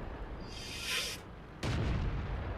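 Tank cannon fire in World of Tanks, with a hissing whoosh rising and fading, then a sudden loud broadband blast that rings out and holds until the end, near and without talk.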